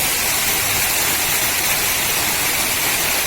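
Water falls from a height at Murga Mahadev Temple, a loud, constant roaring rush that fills the whole stretch without break or talk.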